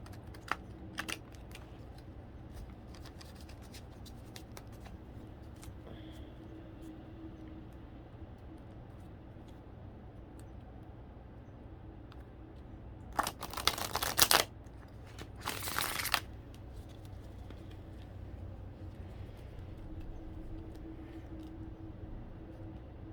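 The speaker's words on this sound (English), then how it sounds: "Let me do a really good shuffle for a minute here." Tarot cards are shuffled in two short, loud riffling bursts in an otherwise quiet room with faint scattered clicks.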